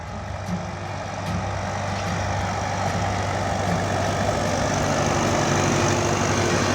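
Ukrainian tractor pulling a Ukrainian seeder while sowing peanuts on Poltava steppe farmland, giving a steady droning engine hum that grows slightly louder, heard from a moderate distance with no talk.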